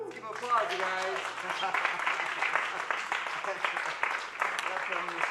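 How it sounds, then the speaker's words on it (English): Audience applause at a live show after a band's song, a dense patter of clapping from a crowd with voices and cheering mixed in and a fading musical note at the start. "Let's give 'em applause, you guys."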